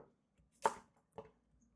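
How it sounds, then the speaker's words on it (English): Knife lightly chopping carrots for a West Indian pepper sauce, two crisp, close cuts on a board about half a second apart in an otherwise quiet kitchen. "Lightly chop my carrots."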